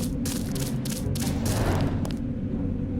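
Enemy gunfire in the Deus Ex video game, a rapid run of sharp shots in bursts over the first two seconds, fairly close, above a low steady rumble of game ambience that continues after the firing stops.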